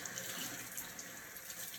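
Water runs steadily from a tap into a sink while hands are wet under it, a soft, constant hissing splash heard close and fairly quiet with no talking.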